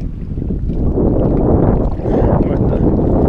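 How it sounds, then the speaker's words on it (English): Strong wind blowing over a lake from a boat, a loud continuous low rumbling roar buffeting the microphone throughout, with no talk. "with the wind coming up. Getting a little breezy."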